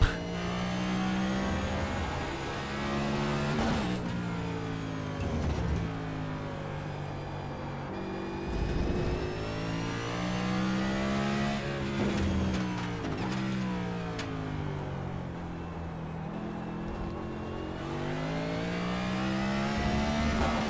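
A race car engine in the iRacing video game, driving a lap at Circuit of the Americas, drones loudly and continuously, its pitch rising and falling through repeated acceleration and gear shifts.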